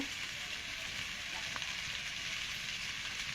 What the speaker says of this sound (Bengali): এই ভেজে রাখা আলুটা দিয়ে দেবো ভেজে রাখা আলুটা দিয়ে আমি আর একটু কষিয়ে নেব